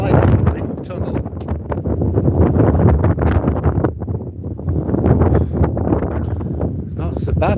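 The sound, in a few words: strong wind on promenade between camper van and houses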